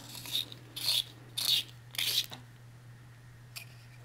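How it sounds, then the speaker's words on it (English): Pencil sharpener grinding a silver colored pencil, four short raspy scraping bursts in a regular rhythm, then a pause and one brief final scrape, close and fairly loud over a low steady hum. "I'm actually kind of dying to try this pencil sharpener, so I think I'm gonna try it with the silver."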